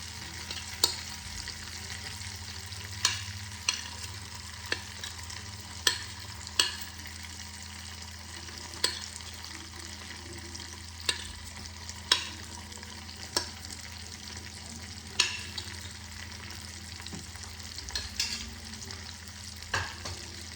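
Chopped ginger, garlic and green chilli frying in a kadhai, a steady low sizzle with repeated sharp scraping taps of a spatula stirring through the pan, no voices.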